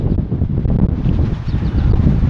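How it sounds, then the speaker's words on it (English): Steady wind blows outdoors, buffeting the microphone with a constant low roar and rustle, loud and continuous throughout with no voices. "It's nice and windy out here, so if you get that wind in the background, I apologize"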